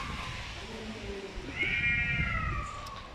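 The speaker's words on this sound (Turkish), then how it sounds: "Kediler de bağırıyor." A cat lets out a drawn-out meow midway, fairly close, over a low background rumble and faint earlier murmurs.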